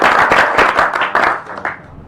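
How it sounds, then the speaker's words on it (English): An audience at an NTIA CSMAC meeting gives a round of applause: a short burst of many hands clapping, fairly loud and close, tapering off after about two seconds. "Let's give everyone a round of applause."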